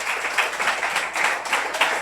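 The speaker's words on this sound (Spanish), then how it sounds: "Si usted lo cree, déle un fuerte aplauso al Señor." Steady applause from a church congregation during a communion service, a dense wash of clapping with no voices, sustained evenly for a couple of seconds.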